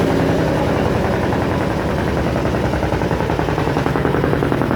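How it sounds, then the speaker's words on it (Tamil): A fishing boat's engine thunders inside its engine room, a loud, steady, close drone with a fast rhythmic chugging pulse and no pauses. "இதான் நம்மளுடைய போட்டோடைய இன்ஜின் ரூம்."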